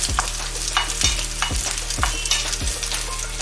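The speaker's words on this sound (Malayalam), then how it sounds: "നമുക്ക് ഈ തക്കാളി അരിഞ്ഞ് വെച്ചത് കൂടെ ചേർത്ത് കൊടുക്കാം." Chopped tomatoes go into a hot pan for Kerala-style rasam, with a steady close sizzle and a rhythmic scraping stir about twice a second, and no voices.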